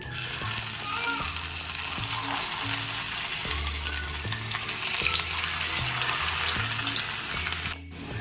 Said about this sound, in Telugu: ఆయిల్ హీట్ చేసుకున్నాను. ఇప్పుడు ఇందులోకి నేను వీటిని వేసుకుంటున్నాను.